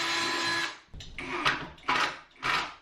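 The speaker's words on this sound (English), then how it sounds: "I just want to pick a place and pre-drill so that the screw will at least go into my" A power drill pre-drilling a screw hole into a closet rail, running in several short whirring bursts separated by brief pauses, close and fairly loud.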